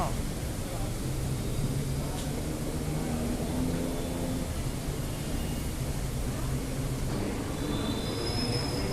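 BTS Skytrain train rolling into the platform at Siam station in Bangkok, a steady rumble of rail noise with high wheel squeal, heard close up over the background murmur of a platform crowd.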